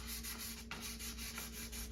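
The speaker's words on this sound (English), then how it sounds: "we're just gonna start to sand it down a little bit" Sandpaper rubs by hand over a small wooden farmhouse end table in slow, repeated back-and-forth strokes, a soft, close scratchy hiss with a faint steady hum beneath and no voices.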